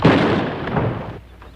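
Rifle shots ring out in a western TV episode, a loud booming blast at the start that decays over about a second and a half, with no talk over it.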